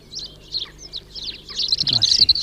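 Garden birds such as tits and sparrows at a feeder, a cluster of quick, high chirps and tweets close by, growing busier toward the end, with a faint low rustle beneath.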